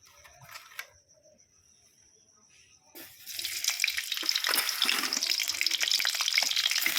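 Cauliflower dropped into hot oil for a fulkopi tarkari, a quiet start with light clinks, then a sudden loud, steady sizzling crackle of frying that continues to the end.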